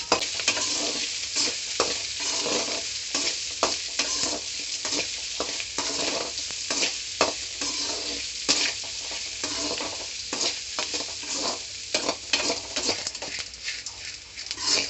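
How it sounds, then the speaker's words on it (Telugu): Capsicum, garlic cloves and onions sizzle and fry in a pan while being stirred, a continuous crackling hiss broken by scraping strokes of the spoon, close and moderately loud, with no talking. "క్యాప్సికం వెల్లుల్లి రెబ్బలు 2 కలిపి వేసుకుందాం. వేసుకున్నాక కలుపుకుందాం."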